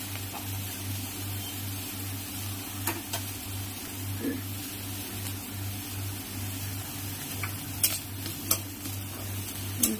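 Ghatkol leaves being stirred with salt and turmeric in a pan, a quiet sizzle beneath a steady low hum, with sparse spoon scrapes and sharp clinks against the pan.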